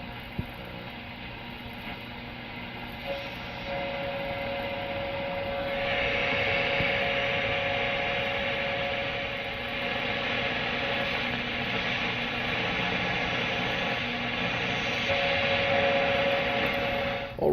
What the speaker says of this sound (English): what you're hearing is the National Bureau of Standards, WWV